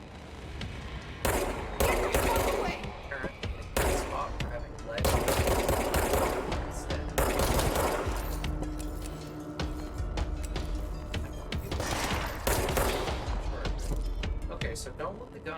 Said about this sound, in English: don't let the gun go empty, or I'm gonna have to wait for it to reload